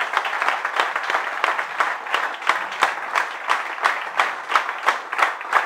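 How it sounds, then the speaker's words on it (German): An audience at a live comedy show claps in thanks to the sound and lighting team, a moderately loud round that settles into a rhythmic, evenly paced clap-along with no voices. "mit einem riesigen Dankeschön und Applaus bedanken bei dem Team"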